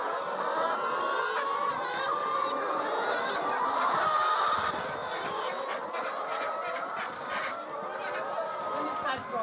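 A flock of farm poultry honks and clucks in a dense, continuous clamor at feeding time, loud and close with many overlapping calls and no pauses.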